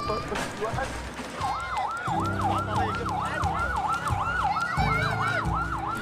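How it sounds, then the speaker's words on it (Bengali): Ambulance siren on a street in war-torn Gaza wails in fast rising and falling sweeps, loud and continuous over a rumbling engine and road noise. "অ্যাম্বুলেন্সের শব্দ শুনলেই আমি মানুষকে রাস্তা থেকে সরাই"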